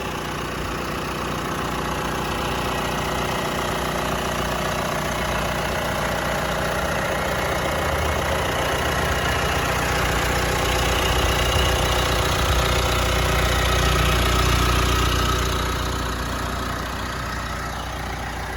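A 2018 Mitsubishi Triton Athlete 2.4 diesel pickup engine idles steadily and close by, a continuous low rumble with a faint knocking clatter, no voices.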